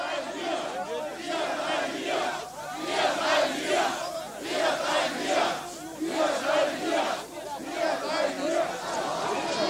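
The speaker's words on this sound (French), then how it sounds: "Des milliers de manifestants parcourent les rues de la capitale en criant « Nous resterons ici »" Thousands of protesters chant together in the streets of East Berlin, a large crowd's rhythmic shouting rising and falling in waves, loud and continuous throughout.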